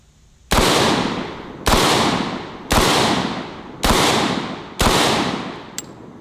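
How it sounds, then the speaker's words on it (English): Five loud 12 gauge blasts from a Typhoon F12 semi-auto shotgun loaded with buckshot, spaced about a second apart, each a sharp crack with a long decaying tail, and a faint click after the last shot. "That was extremely soft shooting for a 12 gauge shotgun"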